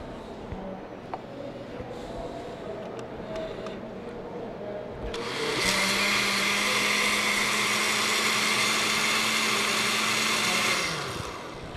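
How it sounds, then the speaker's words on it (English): A blender whirs loudly for about six seconds, mixing a batch of ingredients for a cooking-science recipe, then spins down; quieter kitchen handling and faint background sounds come before it starts. "mix this for a little bit. Scrape the sides down again to make sure all the ingredients are incorporated evenly."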